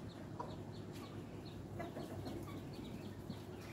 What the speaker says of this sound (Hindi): और देखिए मेरी मुर्गी सबको भी देखिए